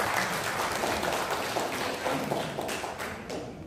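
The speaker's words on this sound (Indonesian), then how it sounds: "Tepuk tangan untuk kita semua." A crowd applauds, dense clapping from many hands that gradually thins and fades toward the end.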